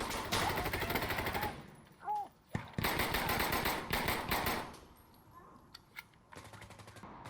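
A G36K rifle firing in Insurgency Sandstorm, rapid automatic bursts of loud, close gunfire broken by short pauses, a reload clatter and a few single shots.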